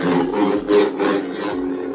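A low humming buzz swells and fades in several smooth waves as a Proffie-powered lightsaber is swung back and forth, played close and fairly loud.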